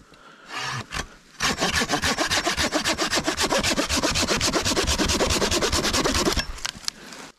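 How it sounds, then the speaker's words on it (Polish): A new hand saw cuts through dry wood in fast, regular rasping strokes, close and loud, with a few scrapes before the steady sawing begins. "Pierwsze cięcie nową piłą."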